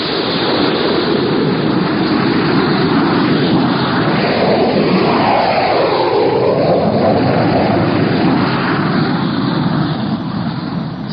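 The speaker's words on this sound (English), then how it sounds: "Six jet fighters were taking off from Hink Field when Chuck Connor showed his pass" Jet fighters taking off, staged as a radio drama sound effect: a loud, continuous engine roar that swells and sweeps across the full span with a slow rising and falling pitch, heard alone without any voices.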